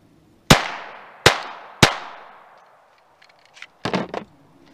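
Three sharp, loud shots from a Glock 44 pistol firing .22 CCI Stinger rounds, evenly spaced and each ringing out with a decaying echo, followed by faint clicks and handling rattles.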